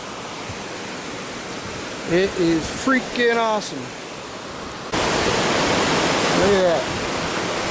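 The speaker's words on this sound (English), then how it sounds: "But the water coming through these rocks right here is awesome." Creek water rushes through rocks on a hike along Upper Deep Creek, a constant close roar that grows louder partway through while someone talks over it.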